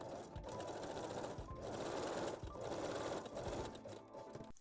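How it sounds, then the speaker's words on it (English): A sewing machine zigzag-stitches elastic onto lingerie, whirring in three or four quiet, even runs with brief pauses between them. "Set your machine to zigzag or 3-step zigzag stitch and finish the back opening first."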